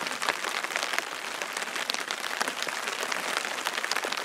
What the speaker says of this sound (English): Sitting under a tarp in the rain.